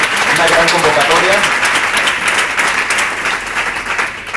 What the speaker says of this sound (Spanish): Eso se merece un gran aplauso también.